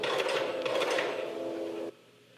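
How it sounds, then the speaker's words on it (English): A noisy post-bed sewing machine running steadily for about two seconds, a close mechanical whirring hum with faint ticking, stopping abruptly, no voices. "That's me on the sewing machine, which is quite noisy."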